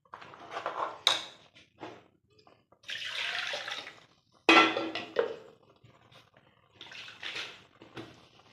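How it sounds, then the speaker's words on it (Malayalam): Water used to rinse a mixer jar is poured into a Kerala-style roasted-coconut chicken curry in several close splashing bursts separated by short pauses, with a few utensil clinks. "ചാറ് കഴുകി ഇച്ചിരി വെള്ളം കൂടി ഒഴിക്കാം"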